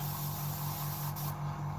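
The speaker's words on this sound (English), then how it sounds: "Quickly, bit of black in here. I'll spray on this now" Black paint sprayed through an airbrush onto a model aircraft kit, an A-4M build, a close continuous airy hiss with a low steady compressor hum beneath, alone without talk.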